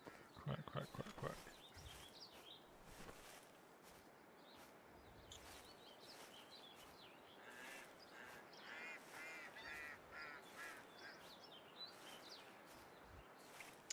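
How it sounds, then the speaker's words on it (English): Geese honk repeatedly in the hunting video game Hunting Simulator 2, with clusters of calls at a moderate distance over a busy outdoor wildlife ambience. "Just some geese."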